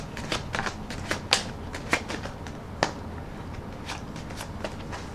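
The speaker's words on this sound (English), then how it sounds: "going to shuffle the cards a little more and rifle them once more." An old deck of tarot cards is shuffled, a soft papery riffle with scattered sharp flicks and taps, close and quiet, with no talking.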